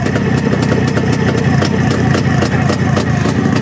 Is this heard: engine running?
yes